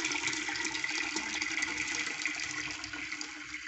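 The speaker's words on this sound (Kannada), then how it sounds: "ನೋಡಿ, ಈಗ ನಾನು ಸೋಸ್ಕೊಳ್ತಾ ಇದ್ದೀನಿ." Paneer whey pours and drains through a cotton cloth into a container, a steady, faint hiss of running liquid with no pauses, heard close up and alone.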